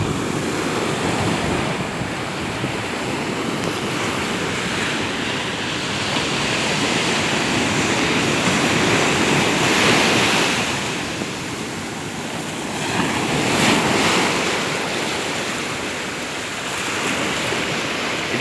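Sea waves wash steadily onto the shore at RK Beach in Visakhapatnam, a loud continuous roar of surf with gentle swells and some wind across the microphone.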